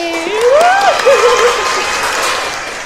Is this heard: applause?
yes